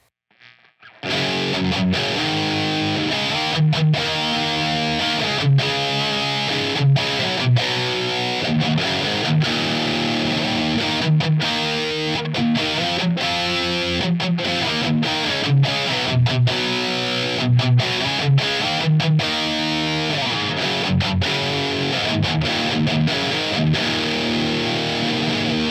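An electric guitar plays through a pedalboard distortion channel with a Hall of Fame Mini reverb set low, chugging rhythm chords and riffs loud and continuous for about 24 seconds after a brief quiet start.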